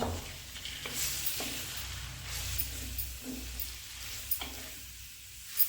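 Grated carrots for gajar ka halwa stirred in a pan, a soft hiss of frying with intermittent scraping strokes of a spoon, fairly quiet and close with a louder knock at the end.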